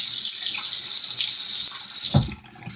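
A sink tap runs with a loud, steady rush of water, then cuts off abruptly near the end as splashing gives way to quiet.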